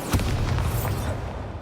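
An Incendio fire spell bursts with a booming whoosh in Hogwarts Legacy, a single short blast that rolls off quickly, heard alone without speech.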